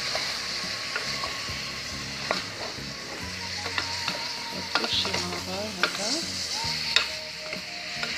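Pumpkin is stirred in a sizzling pan, a gentle frying hiss punctuated by repeated scraping and clinking of a utensil against the pan.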